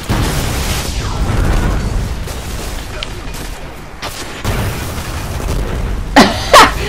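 Shots from the Murmur, a legendary fusion rifle in Destiny, ring out as a few sharp bursts within steady game ambience, the loudest pair coming close together near the end.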